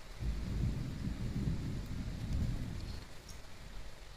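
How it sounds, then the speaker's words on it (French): A low, rumbling roll of thunder with a steady wash of rain, fading slightly toward the end. "Allez, un peu plus fort. Allez, allez l'orage."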